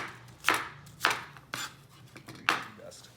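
A knife chops through pork chops on a cutting board, four sharp knocks spaced about half a second apart, close and clear with no talk.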